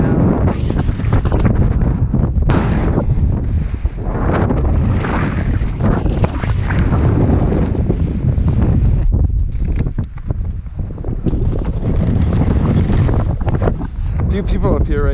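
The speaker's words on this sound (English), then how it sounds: "The wind is crazy." Strong wind roars continuously and loudly across the microphone on an icy early-spring mountain hike, buffeting and gusting without pause for the whole stretch.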